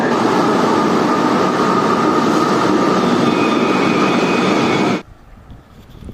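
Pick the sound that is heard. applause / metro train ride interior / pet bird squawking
metro train ride interior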